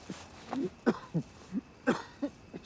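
A man coughs repeatedly behind a mask in a desert setting, a series of about eight short rough bursts in an uneven rhythm, close and moderately loud with no talk over it.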